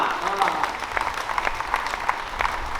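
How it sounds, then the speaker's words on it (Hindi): Loud applause from a festival crowd at a Hindi comic poetry evening welcomes the poet Padma Shri Surendra Sharma onto the stage, a steady dense clapping that fills the whole stretch with no talk over it. "जोरदार ताली से स्वागत करें"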